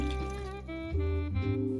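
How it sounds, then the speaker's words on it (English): Water filling a pot of vegetable scraps for soup stock, producing a ringing, pitch-shifting gurgle as the level rises, close and steady for under two seconds. "add water until they're fully covered"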